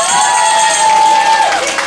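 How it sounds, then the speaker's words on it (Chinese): An audience at a church Christmas thanksgiving service and celebration breaks into loud, dense applause with cheering, a brief close burst filling the room. "再给他掌声！"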